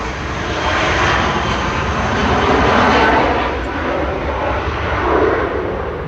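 A British Airways jet aircraft at Manchester Airport roars steadily, its engine noise swelling and easing as it passes, loud and continuous with no talking.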